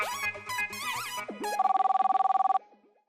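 Outgoing telephone call ringback: a short melodic ringtone-like chime, then a steady, loud pulsing ring tone repeating rapidly for about a second, fading at the end, with no talk.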